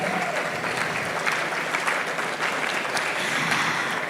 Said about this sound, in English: A very big round of applause for the Executive Governor of Lagos State